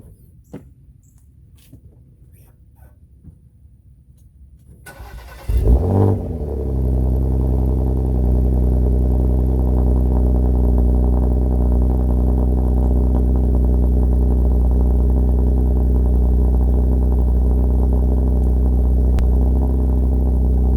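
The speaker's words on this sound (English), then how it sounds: "first we're gonna do a cold start on the Macan" Porsche Macan cold start: quiet shuffling, then a starter catch and a loud flare at about five seconds settling into a steady, deep, even idle that holds close and constant.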